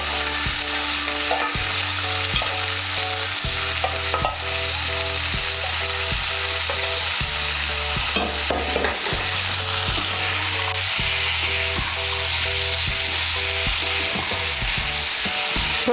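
Boiled chickpeas fry with spices in a pan as a loud, continuous sizzle with steady stirring and scraping, plus a low rhythmic hum running underneath.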